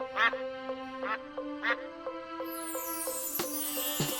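Cartoon-style ducks quack in three or four short, nasal bursts at an even pace over a steady musical tone, clear and close, with no talking.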